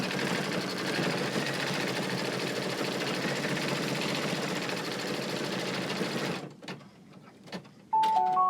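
An embroidery sewing machine stitches in a steady, fast mechanical whir for about six seconds, then stops abruptly, followed by a few faint clicks and a short electronic beep tone.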